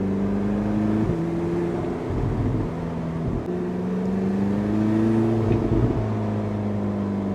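A Porsche 918 Spyder engine revs hard and loud, its deep roar rising and falling in repeated throttle blips, with no talking over it.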